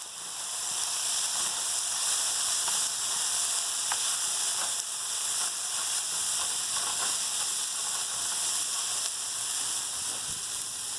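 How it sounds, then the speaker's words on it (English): Pasta tossed together with zucchini in a hot pan gives a steady, close sizzle and hiss with faint stirring clicks throughout, and no one speaks. "So I'm going to add the pasta. Mix that together."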